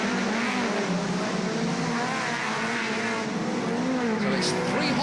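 Hot rods and rallycross cars racing at Wimbledon in 1976: loud, sustained engine roar with shifting pitch from several cars close by, under a continuous commentary voice.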